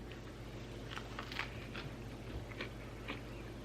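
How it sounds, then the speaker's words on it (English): Crisp crunching bites into crusty bread, several close crackly bursts at an uneven pace with no talking. "The crust is crunchy, as you can tell. You can hear it, I think."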